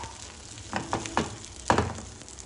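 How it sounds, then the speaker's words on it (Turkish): Food frying in melted butter in a pan, a steady soft sizzle with a few louder crackling bursts near and alone, no voices. "Tereyağı eridikten sonra tekrardan tavaya alıyorum."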